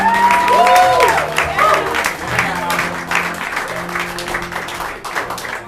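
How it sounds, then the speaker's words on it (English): A theatre audience at an improv marathon show gives loud sustained applause with some cheering, as voices and sung tones ring out over the clapping and it gradually tapers. "please give a huge round of applause for the marathoners!"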